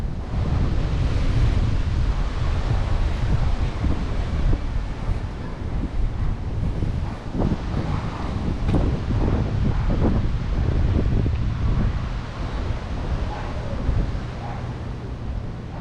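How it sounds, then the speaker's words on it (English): Strong wind buffets a microphone outdoors on an open stretch of San Francisco, a loud, continuous low rumble and roar that persists throughout with shifting gusts. "I'm getting all the wind just jamming down on me right now."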